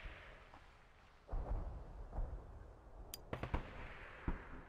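Gunshots ring out in the video game Sniper Ghost Warrior 2, several sharp cracks and booms at mid distance, a couple spaced out and then a quicker cluster, over a quiet ambient background.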